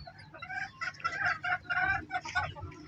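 Bantam chickens, a hen and her chick, cluck in short bursts on a small native-chicken farm, fairly close and moderately quiet, with brief gaps between calls.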